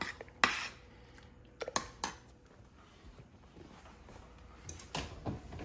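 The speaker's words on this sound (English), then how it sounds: "I'm going to stir this spaghetti sauce that I made." A spoon stirring homemade spaghetti sauce in a pot, giving a few sharp metallic clinks and scrapes against the pot, scattered and fairly quiet, with soft sloshing between them.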